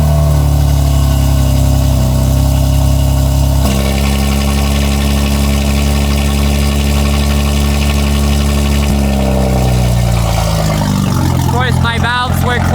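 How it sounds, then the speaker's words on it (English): A BMW G80 M3 with an HFD Valvetronic equal-length exhaust and catless downpipes runs loud and steady at a high idle, then its revs climb and fall near the end, close and continuous with no talk. "I'll get some revs for you."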